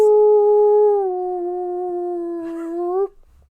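A person imitates a wolf howl with one long, steady, tonal voice held for about three seconds, loud and close before it cuts off.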